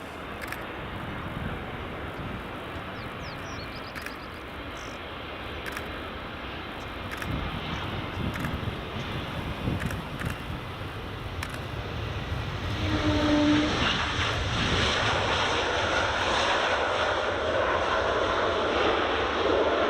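A JetBlue airliner arriving at Edinburgh Airport, runway 24: a low, distant engine rumble that swells louder and brighter over the last several seconds as it approaches, with faint clicks scattered through.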